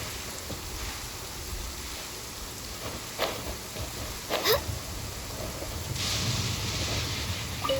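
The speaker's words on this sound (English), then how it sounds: "I love listening to the rain from the courtyard." Steady rain falls on a courtyard in the video game Genshin Impact, a continuous hiss with a few brief louder splashes or rumbles rising out of it and no talking.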